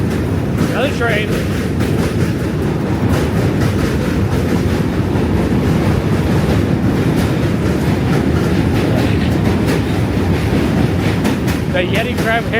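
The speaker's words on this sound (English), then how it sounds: "Train." Subway or commuter train rolling past on a winter walk through Manhattan toward the Brooklyn Bridge, a steady loud rumble with clattering wheels that fills the whole stretch, with faint voices and a brief squeal at the start and end.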